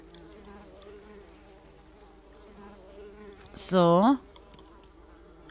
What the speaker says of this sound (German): Die Mücken.